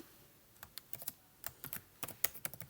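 Code being typed on a computer keyboard: faint, irregular key clicks in short bursts with small pauses, close by in a quiet room.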